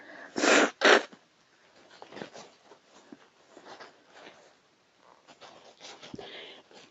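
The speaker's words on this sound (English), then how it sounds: "I've got to blow my nose" Two loud, forceful nose blows close by, back to back, followed by quiet rustling and handling sounds.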